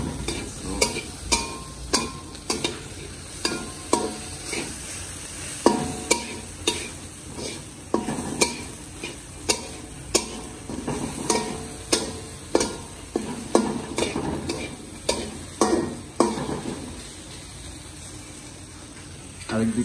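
Vegetables frying in a pan over a low flame, stirred often with a utensil; sharp scraping clicks land every second or so over a steady sizzle, with a voice talking faintly in the background.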